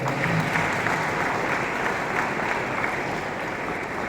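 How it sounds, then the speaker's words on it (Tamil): Audience applause at a medical group's job appointment order ceremony, a dense steady clapping crowd filling the room, loud and continuous throughout with no talk over it. "அவங்க ஹெச்ஆருக்கு நல்ல ஒரு கைத்தட்டு பார்க்கலாம்."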